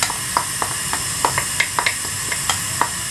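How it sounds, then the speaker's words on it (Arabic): Onions sizzling as they fry in a tajine, a close, steady hiss broken by regular clicks and scrapes from stirring, roughly three per second. "غادي نبداو نحطو في الطاجين تاعنا البصل."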